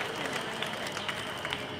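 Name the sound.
applause from rally crowd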